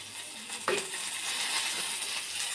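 Curry leaves drop into hot oil already holding mustard seeds and urad dal, giving a sharp splutter followed by a continuous close, bright sizzle that carries on evenly with no voices.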